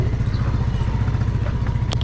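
A Yamaha Mio Sporty motorcycle engine idles close by with a steady low, chugging pulse and faint rattling, running continuously through the short stretch.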